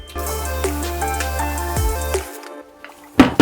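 A REVOLT cordless brushless angle grinder runs at first speed, whirring steadily with a humming, tonal motor whine for about two seconds, then spins down and stops, followed by a few clicks.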